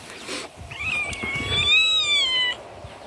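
A cat gives one long, rising and falling meow, close and clear, over faint room noise.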